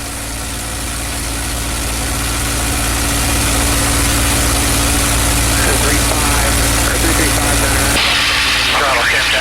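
Steady drone of a TF-51 Mustang's piston engine in flight during aerobatics, with the throttle eased back slightly and the pitch dipping toward the end, loud and close with cockpit hiss throughout.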